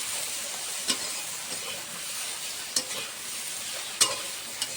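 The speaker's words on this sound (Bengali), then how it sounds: "ডাঁটাটা নেড়ে ছেড়ে এখন দিয়ে দেবো হলুদ গুঁড়ো 1 চামচ, স্বাদ মতো নুন 1 চামচ দিয়ে নেড়ে ছেড়ে" Drumstick stems fry in a pan with turmeric and salt, giving a constant soft sizzle broken by a few sharp spatula scrapes and clicks as they are stirred.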